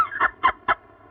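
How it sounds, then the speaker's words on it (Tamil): Three short, evenly spaced clucks from a chicken, loud and close, standing alone with no talk. "கோழி."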